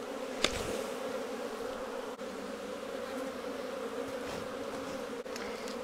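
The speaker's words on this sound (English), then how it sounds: "Shake all the bees out of the box." Dense, steady buzzing of many honey bees being shaken out of a hive box during a hive split, close and continuous, with a couple of faint knocks and no voices.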